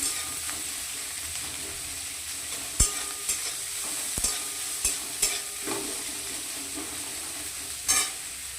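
Chopped onions stirred and fried for chow mein, a steady hiss of frying with intermittent scrapes and knocks of a spatula on the pan, close and alone without speech.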